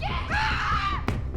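A man screams during a dramatized beating with a cane, one sustained wavering cry, loud and close, that cuts off into a sharp impact-like burst.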